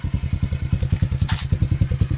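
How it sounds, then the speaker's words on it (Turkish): A 50cc Falcon KMT 50S Cup moped engine idles with a quick, steady putter of regular exhaust pulses, close by, with a brief clatter partway through. "Motor şu şekilde çalışıyor."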